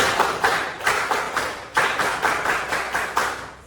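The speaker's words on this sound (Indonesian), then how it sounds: "Breaking yang pertama yaitu tepuk konsentrasi." Students in a classroom clap a rhythmic concentration pattern in unison, with sharp grouped claps repeating in quick bursts and short pauses between them over a few seconds.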